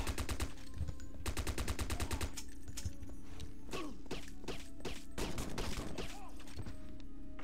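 Repeated bursts of gunfire from James Bond 007 NightFire on PC during an island getaway mission, loud rapid volleys with short gaps and several heavy single shots, with no talking.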